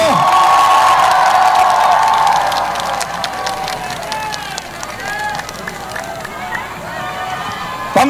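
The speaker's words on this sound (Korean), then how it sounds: "큰 박수로 맞이해 주십시오." A large rally crowd in Busan cheers and applauds as a presidential candidate is introduced, loud shouting and whooping at first that settles into a steadier roar of cheers and clapping.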